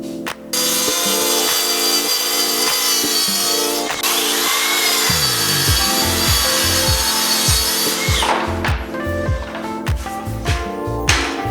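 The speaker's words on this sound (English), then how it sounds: "We can actually do this with a skill saw on a plywood blade." A circular saw fitted with a plywood blade screams through wood while cutting pieces for a soffit jig, loud and close, with several sustained cuts broken by brief spin-downs and re-revs.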